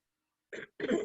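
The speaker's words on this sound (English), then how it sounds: "I had a little cough there" Two quick, soft coughs from an allergic man close to the microphone, separated by a brief pause, in an otherwise quiet room.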